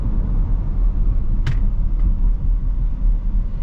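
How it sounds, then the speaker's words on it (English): A 2021 Dodge Durango R/T Blacktop RWD slows on an off ramp, heard from inside as a steady low road and engine rumble, with one short sharp squeak or click partway through. "We're going to go ahead and hit the brakes."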